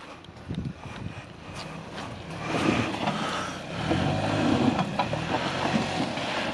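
A Ford Maverick pickup truck crawls over an off-road obstacle, its engine rumbling low and then swelling as it pulls through, with crunching tire and ground noise close by and no talking.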